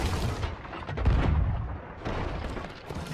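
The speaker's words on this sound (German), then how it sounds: "Feuer nochmal, Feuer, Feuer, keine Gnade. Baller ich Kanonen." Heavy, continuous booming of ship cannon fire in the video game Sea of Thieves, with several deep blasts overlapping into a dense, rumbling barrage.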